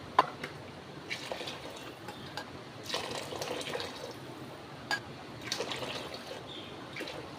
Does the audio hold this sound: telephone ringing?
no